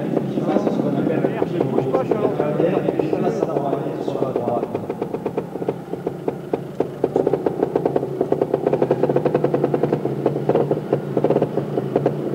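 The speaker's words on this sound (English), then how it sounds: "An awful lot of torque in those little engines." A single-cylinder 250cc water-cooled trials motorcycle engine revs and blips in an indoor arena at Paris Bercy, its choppy, rapid bursts running throughout beneath voices and crowd noise.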